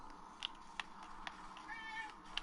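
A cat meows several times in the Murdered: Soul Suspect video game, with short, moderately loud calls standing out over a steady background game hum.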